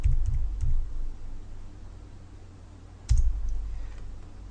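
Mouse clicks and keyboard typing at a computer while setting a filter in Market Samurai keyword software, a few soft sharp clicks at the start and another near the middle over low, steady desk noise, with no one talking.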